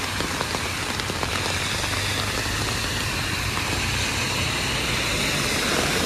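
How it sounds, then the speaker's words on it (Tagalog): Heavy rain pours down in a dense, steady hiss that fills the whole stretch without a break, loud and close, with no voices over it. "Ang lakas ng ulan guys."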